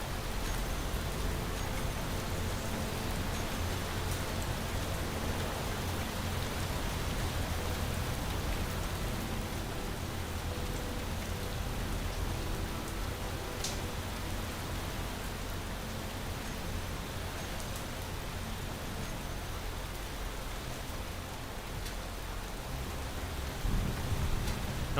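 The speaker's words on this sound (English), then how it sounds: "Wait for that rain to go by." Steady heavy rain pours down for the whole stretch, a dense continuous hiss of drops on surfaces with a few sharper patters, loud and close, no voices.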